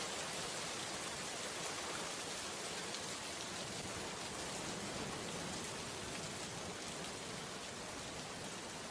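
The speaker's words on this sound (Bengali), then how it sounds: "বৃষ্টির যা ভাব দেখছি, তাতে মনে হয় এবার বন্যা হওয়ার সম্ভাবনা অনেক বেশি।" Steady rain falls continuously in a cartoon scene, a dense, even patter that stays constant and moderately loud throughout with no voices.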